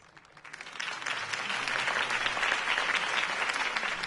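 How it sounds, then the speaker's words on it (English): Video game crowd applause in Batman swells up after a quiet moment, following a campaign speech, and continues as a thick, sustained wash of clapping, fairly loud and even. "If only Mr. Wayne, my campaign's largest backer, could have heard that applause"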